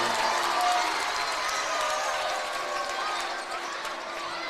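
Spectators at a girls' 8th Region basketball final between Spencer County and Anderson County fill a gym with loud, sustained crowd noise reacting to a referee's foul call, a continuous roar of voices with a commentator talking over it.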